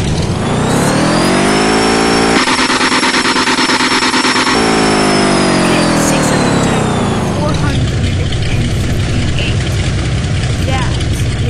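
A turbocharged off-road vehicle in the Off-Road Outlaws video game revs loudly with a rising, sustained engine whine and a high turbo tone, then shifts to a rougher, noisier roar; a voice talks over it.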